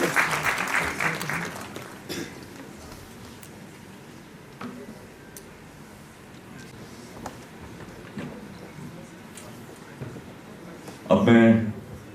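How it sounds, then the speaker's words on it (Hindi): Applause for two guests at a university regional convocation in Srinagar, a loud burst at the start easing into scattered clapping under a speaking voice, then a brief loud swell near the end. "तालियां दोनों मेहमानों"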